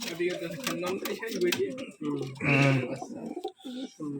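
Pigeons, including a male gerebaj pigeon kept in Rajshahi, coo in repeated low throaty phrases close by, with voices faintly mixed in.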